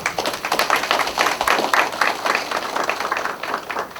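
Audience applause at the opening of a Democratic Party of Korea on-site Supreme Council meeting on expanding health insurance coverage: dense, steady clapping from a room of attendees that fills the whole stretch at an even level.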